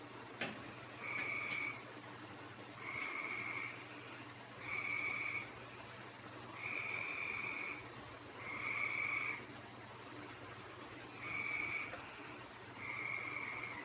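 A frog croaks outdoors at night in a series of seven or so regular, evenly spaced bursts, clear but moderately distant against a quiet background.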